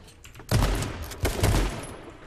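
Video game gunfire erupts in two heavy, dense bursts of rapid shots, loud and close, with no talk over it.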